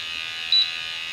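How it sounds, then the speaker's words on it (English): A single short electronic beep from a Rae Systems gas detector, fairly faint, over a steady high-pitched hum. "that was my instrument that's on behind me. Went ahead and beeped"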